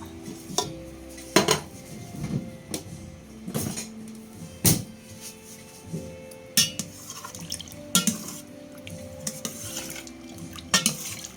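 A spoon stirs food in a metal cooking pot for a simple New Year dish. Irregular clinks and scrapes against the pot run for several seconds, close and without talk, over a faint wet bubbling.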